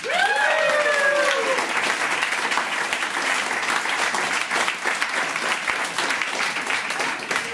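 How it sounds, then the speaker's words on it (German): Audience applause for Jan, dense and steady throughout at close-to-moderate distance, with a brief whooping cheer or whistle at the start. "Ein Applaus für Jan."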